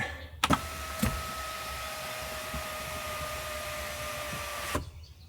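A Tesla Model Y's power sun shade motor whirs steadily for about four seconds between soft clicks at start and stop, a smooth close electric hum with no talking.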